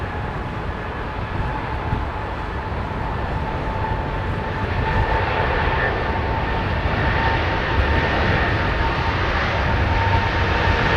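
Jet airliner engines spooling up to takeoff thrust, a loud steady broadband roar with a whining tone that builds and holds throughout, heard from inside the cabin.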